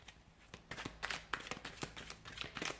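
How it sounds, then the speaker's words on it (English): Tarot cards being shuffled by hand, soft papery riffles and slaps in quick irregular bursts, close and quiet, without speech. "So we'll give the cards a shuffle"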